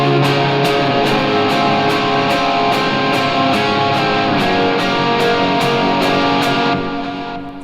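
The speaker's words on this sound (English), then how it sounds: "Sometimes I like to actually bend that note." Electric guitar through distortion on a Helix/HX Stomp rig, for a worship song, sustaining a dense, saturated held note with a steady rhythmic pulse over it, loud and continuous before fading slightly at the end.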